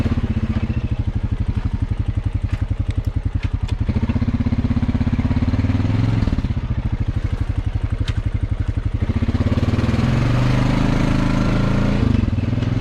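A four-wheeler ATV engine running on a river trail, a loud, steady, rapid-pulsing putter that shifts pitch slightly as the machine moves along, with no talking.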